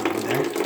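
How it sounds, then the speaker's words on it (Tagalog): Water runs steadily from a tap turned on for laundry washing, a loud, close, continuous splashing rush filling the whole moment. "Yan, bukas natin yung tubig."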